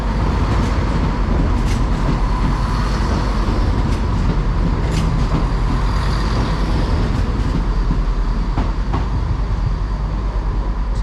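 Cross-country train 173.98 departs toward Cardiff Central in a continuous, loud rumble of rail wheels and engine, with faint clanks over the steady roar.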